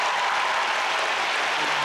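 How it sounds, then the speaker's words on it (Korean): Audience at a gala concert applauding the music team, a dense continuous hiss of many clapping hands, even and loud for its whole short span with no voices over it. "음악팀에게 박수 부탁드립니다."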